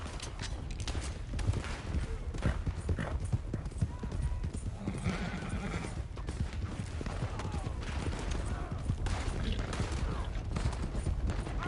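Horse hooves clip-clopping at a gallop in Red Dead Redemption 2, a steady rapid thudding rhythm close up, mixed with game ambience and faint distant shots.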